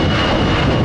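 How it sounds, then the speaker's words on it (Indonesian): Airplane flying overhead, a loud steady engine roar filling the moment without a break or voices. "Pesawat."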